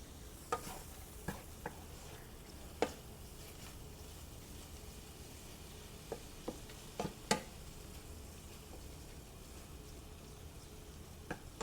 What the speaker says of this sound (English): Let that simmer for just a minute or so.